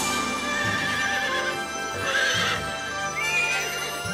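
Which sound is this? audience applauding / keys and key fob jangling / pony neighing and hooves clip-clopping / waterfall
pony neighing and hooves clip-clopping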